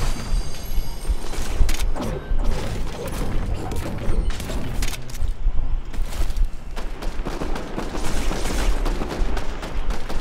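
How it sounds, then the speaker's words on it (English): Rapid overlapping gunfire from a Fortnite match in a rave cave area, sharp bursts and booms layered over dense game sounds and music, steady and loud throughout the whole stretch. "people are shooting"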